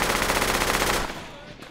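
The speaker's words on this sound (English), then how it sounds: "I think we're taking fire." Machine gun fire in the military shooter game Project Reality, a rapid sustained burst for about a second that then cuts off, loud and close.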